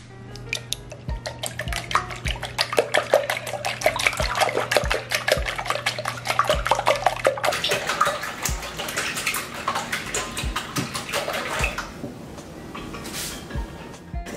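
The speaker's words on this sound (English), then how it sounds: "I'm gonna whisk these together just so that they are nicely combined" A whisk beats four eggs together in a bowl, giving a rapid, steady run of clicking and sloshing strokes that goes on for a sustained stretch, close and fairly loud, with no talking.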